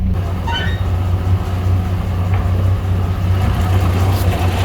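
A 1989 Jeep Comanche engine running on its own after a jumper box is disconnected, a loud, steady low idle rumble with a faint squeal near the start and no talking.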